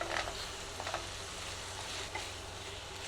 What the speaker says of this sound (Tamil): இப்போ வந்து முருங்கைக்காய் போடுவோம்.